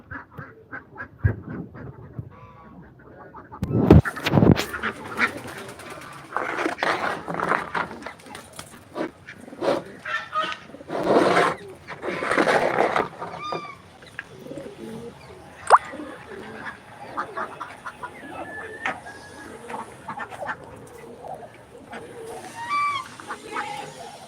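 A flock of ducks quacking busily as they are herded into their coop outdoors, with overlapping calls near and far, occasional honking fowl and scattered human calls mixed in.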